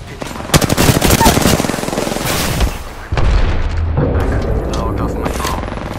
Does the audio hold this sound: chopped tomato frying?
no